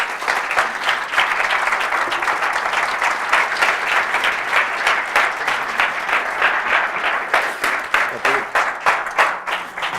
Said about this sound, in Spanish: recibamos con un fuertísimo aplauso a Eduardo Anitua